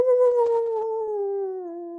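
A person mimics a dog with a drawn-out, howling vocal tone that holds steady for about two seconds, loud and close.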